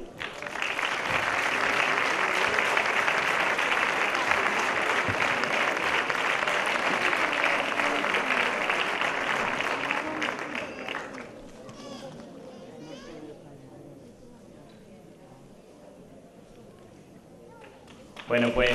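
An audience at a sports awards gala applauds loudly and steadily for about ten seconds, then the clapping drops away, leaving quieter room murmur and chatter before a brief return of noise at the end.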